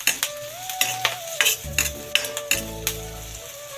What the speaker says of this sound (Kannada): ಸ್ವಲ್ಪ ಫ್ರೈ ಆಗ್ತಾ ಇದೆ.